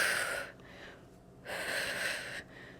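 Two forceful breathy exhales during a standing core twist in a full-body sculpt workout, each lasting about a second with a pause between, close and fairly quiet with no talk.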